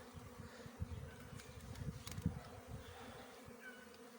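Honeybees hum around an apiary hive in early spring, a soft continuous buzzing with scattered closer passes of individual bees and no voices.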